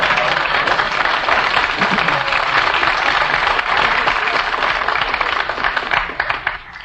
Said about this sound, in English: Did you plant those Marines out front to applaud for you tonight there in the third row?